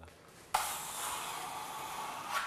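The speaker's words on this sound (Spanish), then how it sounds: "Este es el sonido de la espátula cuando el producto es realmente suave." A plastering spatula drawn across a smooth natural wall finish gives a sudden steady, bright hissing scrape that starts after a brief quiet moment and continues close and even, swelling slightly near the end.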